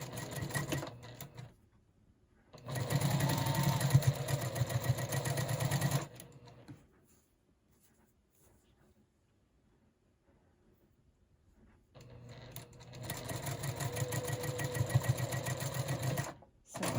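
A sewing machine stitches quilt block pieces together in two bursts of rapid, close mechanical chatter of about three seconds each, separated by a long quiet pause, with brief stops before and after.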